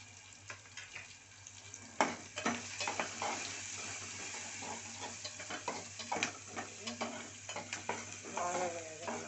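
Bottle gourd curry with turmeric fries in a pan, a steady sizzle running throughout with repeated scraping stirs and clinks of the spoon against the pan.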